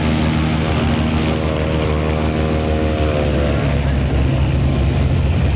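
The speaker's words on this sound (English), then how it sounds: "We've got another plane getting ready to take off" Small propeller plane at a fly-in getting ready for takeoff, its engine droning loudly and steadily throughout with a buzzing tone that rises slightly, close by, with faint talk underneath.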